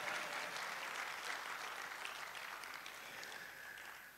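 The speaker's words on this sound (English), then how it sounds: "another round of applause for him." An audience at the Ghana College of Physicians and Surgeons annual meeting claps in a sustained, even round of applause, heard at moderate distance and easing off slightly at the end.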